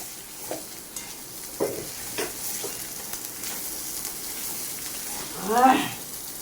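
Ingredients fry in a pan with a soft, constant sizzle, punctuated by occasional spoon taps and a louder scraping stir near the end.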